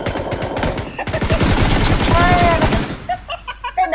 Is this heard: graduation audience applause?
no